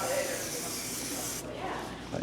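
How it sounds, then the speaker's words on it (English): Shine spray misted onto hair during styling, a close continuous hiss running through most of the short stretch with a brief cutoff partway, under a speaking voice. "I'm just going to spray the shine spray"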